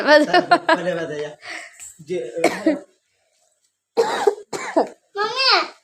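A child with a cough and fever talks and coughs in short bursts, with a pause of silence before more coughing and throat-clearing sounds.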